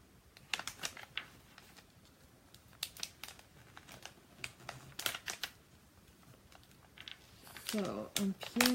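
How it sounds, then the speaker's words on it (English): Excess vinyl peeled away from a label sheet by hand, making close, sporadic crinkling and tacky tearing sounds in short bursts, with a louder rustle toward the end. "So, I'm peeling all of this extra off."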